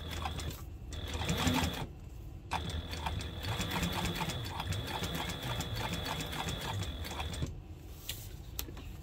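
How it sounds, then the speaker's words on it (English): A sewing machine stitches a duffle bag panel along the piping, running steadily for several seconds with brief pauses and a rapid mechanical whir and tapping, close and fairly loud. "And we will sew."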